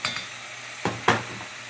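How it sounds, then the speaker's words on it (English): White wine poured into a pan of sautéed vegetables for carrot risotto, a short burst of sizzling with a few scraping stirs and light clinks of a spoon against the pan, close and moderate. "I'm going to put in a 1/2 cup of white wine"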